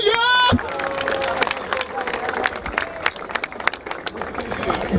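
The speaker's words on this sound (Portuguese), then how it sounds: "Palmas pra sua batalha!" Crowd clapping and cheering at a rap battle, the Batalha da Aldeia in Barueri, São Paulo. Dense, close applause and hubbub fill the clip, with a loud voice shouting over the crowd.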